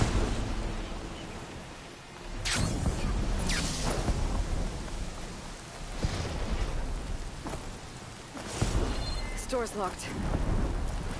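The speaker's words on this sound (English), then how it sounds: "Crackling with those storm clouds looming." Thunderstorm with heavy rain in the video game Horizon Forbidden West: steady rainfall under repeated rolling thunder cracks, loud and close, with a brief spoken line over it.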